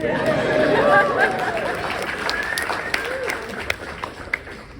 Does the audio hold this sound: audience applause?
yes